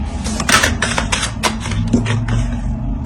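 A tarot card being drawn and laid down: a close run of quick papery clicks and taps in uneven rhythm, like cards sliding and being set on a table.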